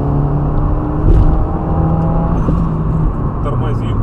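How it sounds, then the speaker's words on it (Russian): Inside a turbocharged Lada Kalina, the engine drones steadily with a low rumble and whir, close and constant, with a brief hiss that may be the blow-off valve. People talk over it. "И вот этот вот блоуф на тазу, оно шикарно звучит, просто замечательно."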